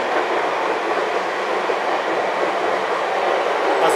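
A train runs along rails with a steady, loud rumbling roar from inside or close by, continuous without pauses or voices.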